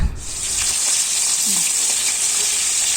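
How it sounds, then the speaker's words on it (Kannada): Spices for a tempering sizzle in hot oil in a home kitchen, a loud, steady, close hiss that holds evenly throughout. "ಅಮ್ಮ ಇಲ್ಲಿ ಒಗ್ಗರಣೆ ಮಾಡ್ತಿದ್ದಾರೆ"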